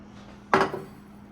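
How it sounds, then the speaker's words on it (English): A frosted mug pulled from a freezer, a single sharp clink of glass against a hard surface followed by a brief rattle, over a low steady hum. "Now I have to get my frosted mug out of the freezer."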